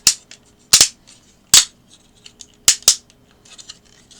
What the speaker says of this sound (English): Pull this flap down and flip them out. And then you pull the legs round.